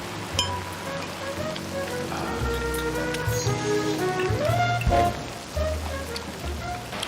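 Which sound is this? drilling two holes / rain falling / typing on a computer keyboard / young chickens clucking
rain falling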